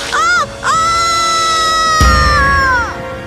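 A woman in a Hindi animated cartoon screams loudly and piercingly, first in two short bursts and then in one long, sustained cry, with a dull crash partway through.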